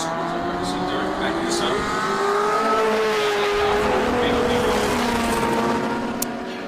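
Heritage touring race cars drive past on a circuit, their engines rising and falling in pitch as they rev through the gears, loud and sustained, with a commentator talking over them.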